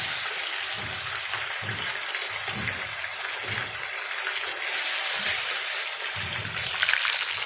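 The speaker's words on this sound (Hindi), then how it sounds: "अब मैं इसमें एक प्याली पानी शामिल कर, इसका मसाला खड़ा रखना है" Water poured from a cup into a simmering pan of fish curry masala, a steady splashing hiss lasting several seconds at close range with no talking.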